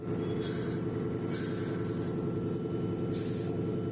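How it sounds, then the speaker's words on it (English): A constant heavy engine rumble from a 55-year-old Antonov An-2 biplane taxiing is broken by repeated bursts of high hissing squeal from its pneumatic brakes, a loud mechanical din throughout. "As we taxied across the apron, I was stunned by the squealing and stomping noises."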